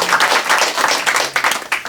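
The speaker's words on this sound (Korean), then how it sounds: "수필 쪽에 또 큰 박수 부탁드립니다" An audience at a 2011 literary award ceremony and book launch applauds warmly, with dense, steady clapping from many hands filling the hall throughout.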